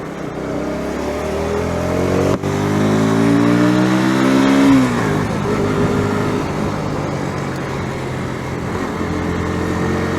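Bajaj NS 160 motorcycle on the move, engine note rising steadily through acceleration then settling into a steady cruising drone with wind rush, close and fairly loud, no talking.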